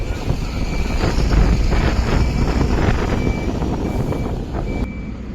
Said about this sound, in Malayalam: വേറൊരു വണ്ടി ഇത് വന്നുകൊണ്ടിരിക്കുന്നുണ്ട് കേട്ടോ.